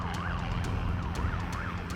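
A warbling siren signals workers to close the sails of a wildebeest trap in Africa, rising and falling steadily over a constant low rumble, loud and continuous with faint higher chirps above.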